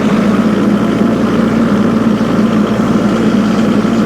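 A tractor engine drives a fertilizer spreader at 1700 RPM, producing a steady, loud, low droning rumble that holds even and unbroken from start to finish.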